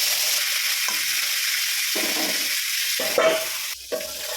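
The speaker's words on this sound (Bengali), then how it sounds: "কড়াইতে তেলটা গরম হয়ে গেছে, আমি প্রথমে পটল ভাজাটা করে নিচ্ছি" Pointed gourd (potol) slices fry in hot oil in a wok, producing a steady close sizzle with intermittent bursts of louder crackling as pieces are turned, with no speech.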